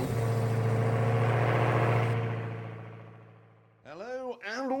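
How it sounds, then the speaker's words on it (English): A car engine idles with a steady low hum through a Route 66 road trip start in Chicago, then fades down before a voice begins speaking over it near the end. "So, starting engine."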